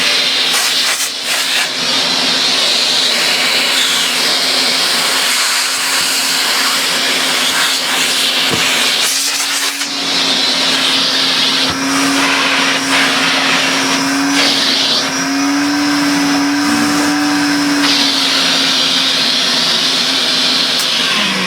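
A Hoover Constellation vacuum cleaner running steadily and loudly up close, a constant whooshing hiss with a motor whine whose pitch shifts partway through as the suction changes.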